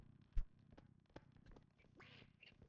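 A duck quacks in the video game REPO, a short burst of clipped, nasal quacks heard close and fairly faint, with a scraping bump near the start.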